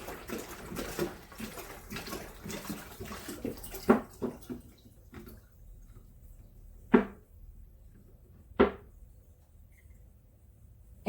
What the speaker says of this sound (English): I open my gallon jug and then I just begin to pour it inside this big jug.